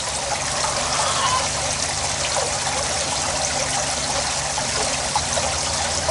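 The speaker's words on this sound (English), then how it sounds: "Now I got more air being added to the water." An aerator pushes air into water, keeping up a steady hiss of bubbling and trickling at an even level for the whole stretch, nearby and with no talking over it.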